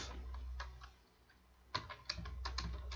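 Keys clack on a computer keyboard as Python code is typed, a few soft scattered taps early, then a quicker run of sharper keystrokes toward the end over a low steady hum.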